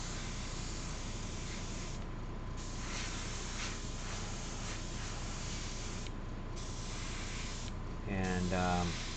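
An airbrush or spray can laying yellow paint over gray primer on a scale model, a steady close hiss with a few short pauses between passes, with a person talking over it.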